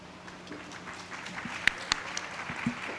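Scattered audience applause in a hall, faint and thin with a few sharper claps standing out near the middle, heard from a distance under a low murmur.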